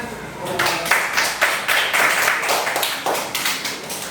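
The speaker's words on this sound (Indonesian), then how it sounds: "Beri tepuk tangan." A classroom full of people clapping steadily together for a few seconds after a group presentation, with some voices mixed in.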